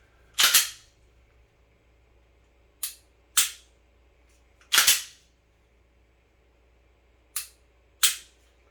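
Rifle shots crack out in sharp, isolated reports, six of them spaced irregularly across several seconds, some in quick pairs, loud and close with quiet between.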